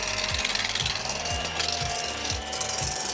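An electric mixer whips egg whites for pancake batter, a steady bright whir with rhythmic low scraping pulses about every half second. It is fairly close and continuous, with no talking.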